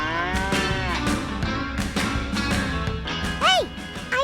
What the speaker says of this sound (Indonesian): ternyata repot juga ya teman menggembalakan sapi sebanyak ini